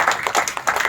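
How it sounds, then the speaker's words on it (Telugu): A church congregation at a Christmas gathering in Nellore claps hands together in praise, a quick burst of several loud, fairly even claps from many people close by. "అందరూ ఒకసారి గట్టిగా చప్పట్లు కొట్టి ప్రభువుకి స్తోత్రం చెల్లిద్దాం"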